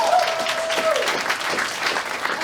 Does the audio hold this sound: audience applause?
yes